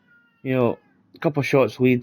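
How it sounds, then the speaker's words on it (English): A pet cat meows in the background of a room while someone talks over PS5 golf gameplay, its short harmonic cries rising between and under his speech. "I don't know if you can hear my cat in the background."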